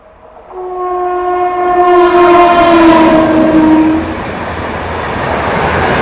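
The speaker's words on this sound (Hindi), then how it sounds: "ये थी टुवर्ड्स मुंबई जाने वाली अगस्त क्रांति तेजस राजधानी एक्सप्रेस।" August Kranti Tejas Rajdhani Express passenger train bound for Mumbai passes close by, loud and rushing, with a long sustained horn blast sounding over the rumbling of the wagons and steady clatter.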